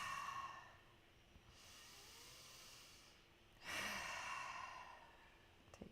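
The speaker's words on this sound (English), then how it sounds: "And exhale." Long breaths during a Wim Hof breathwork session, close and quiet, with a sustained exhale, a pause, then another strong rush of breath through the nose and mouth.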